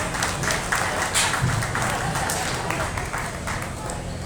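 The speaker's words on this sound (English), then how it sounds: "Give her another nice round of applause, please." Audience applause at a county fair swine show fills the arena after a champion purebred Poland China gilt is presented, a steady, dense patter of many hands that holds for several seconds at moderate distance.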